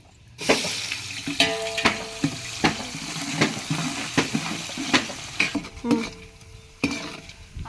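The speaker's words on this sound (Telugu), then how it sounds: "ఆనియన్స్ అయితే వేగాయండి" Onions fry in a large pot over a wood fire as they are stirred, a close, dense sizzle cut by repeated clattering scrapes and knocks of a ladle, with no talk.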